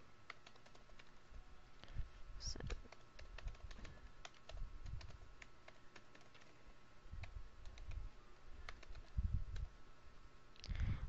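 Quiet keyboard typing: irregular bursts of light key clicks with short pauses between, close to the microphone, no talking.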